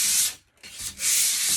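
A hand sanding sponge rubs over paint in a tub surround corner, giving steady close scratchy strokes with a brief pause between passes.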